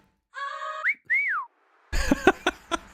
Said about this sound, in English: let's add a wolf whistle in there